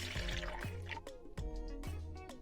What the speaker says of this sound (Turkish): 1 su bardağı sütü çırpma kabımızın içine alıyoruz